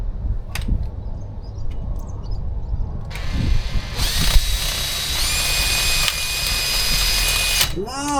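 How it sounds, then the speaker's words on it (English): A power drill whirs steadily for several seconds while drilling on a Toyota 80 Series, close and loud, starting suddenly and stopping near the end, with voices and room noise around it. "Put a drill in that, drill it a bit"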